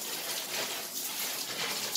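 Water runs from a spout into an Alcaplast shower drain, a soft continuous splashing hiss heard close and fairly quiet with no talking.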